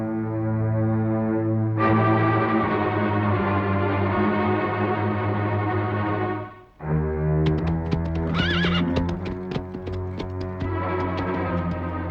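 A horse neighs loudly in a long, drawn-out whinny that rises and falls, with a dense, sustained layer of sound behind it and a brief dip midway.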